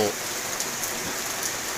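Steady rain patters down on a morning in Phu Wiang, a soft continuous hiss of drops spread evenly across the whole stretch with no break.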